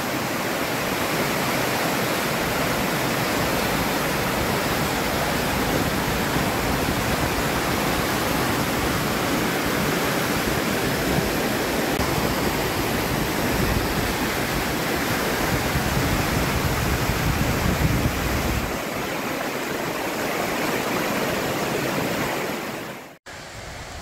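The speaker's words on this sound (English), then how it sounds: "Goes over this river. I suppose this would be the North Fork River." The North Fork River rushing beneath a bridge, a loud, steady broadband roar of flowing water that continues unbroken and alone for the whole stretch, then cuts off abruptly at the end.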